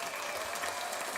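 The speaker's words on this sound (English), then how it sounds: "I think that's a premature clap." A short burst of applause breaks in during an online webinar demo, a dense, continuous clapping sound lasting just over a second with no talk.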